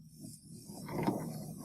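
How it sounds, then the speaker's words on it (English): A yarn winder turns, winding yarn onto a spool with a soft, faint, steady mechanical whirring and ratcheting clicks, close by and alone. "it's simply a matter of winding the yarn"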